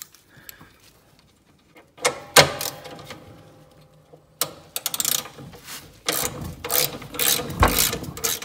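A ratchet with a 10 mm socket removes bracket bolts from the rear end of a John Deere transaxle, giving quick bursts of close metallic clicking between quieter pauses.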